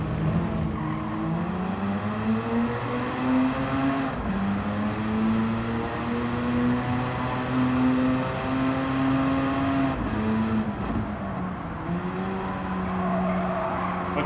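A Mazda RX-7 race car in Gran Turismo 7 screams continuously through gear changes with a high rotary engine note, shifting pitch as it brakes and accelerates through corners, with tire squeal layered over the engine.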